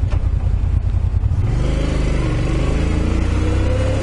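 Motorcycles, among them a Triumph Rocket, ride with a loud, continuous engine rumble close by, the note shifting and settling into a steady drone partway through.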